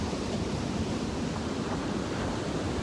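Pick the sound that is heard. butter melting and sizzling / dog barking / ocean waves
ocean waves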